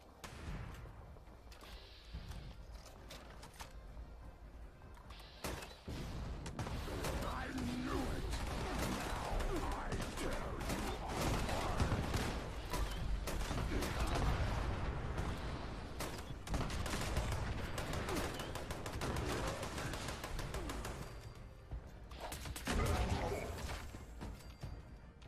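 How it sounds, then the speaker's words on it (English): A grenade launcher fires repeatedly in Fallout 76, heavy blasts and explosions piling into a dense, loud barrage of booms and crashes that runs almost without break. "Over here I use my grenade launcher."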